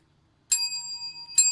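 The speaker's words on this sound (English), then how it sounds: "Or bicycle bell" Bicycle bell ringing in a horror film, two bright metallic rings with a long shimmering decay between them, the second starting just before the end, clear and alone.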